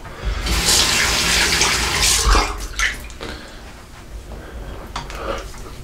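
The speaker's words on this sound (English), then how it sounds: "I'll wash my hands." Water gushes from a tap during handwashing, a loud close rush that softens into lighter splashing and trickling, with small knocks and spatters near the end.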